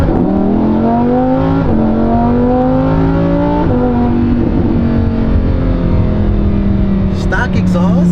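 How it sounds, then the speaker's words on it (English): A Lamborghini Huracan with stock exhaust revs hard and loud, its pitch climbing and dropping in repeated pulls, close by. "Bro, this is loud, bro. I didn't think this was gonna be this loud, stock exhaust."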